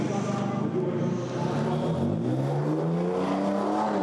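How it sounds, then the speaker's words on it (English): A BMW race car rolling down the pit lane, its engine note a rising, humming whine that climbs in pitch as it pulls away, with a commentator talking over it. "Down the pit lane goes the BMW"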